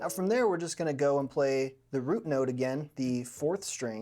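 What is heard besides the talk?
None of the usual background noises is heard.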